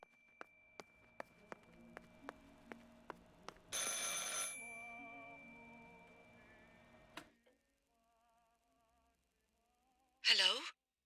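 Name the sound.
telephone ringing in video game Martha Is Dead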